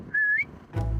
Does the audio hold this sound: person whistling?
yes